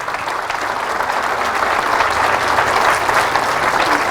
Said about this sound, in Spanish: Fuerte ese aplauso a la palabra de Dios.